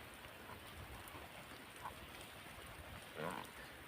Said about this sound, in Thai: เก็บภาพบรรยากาศฝนตกมาฝากกันฝากพี่น้องเขา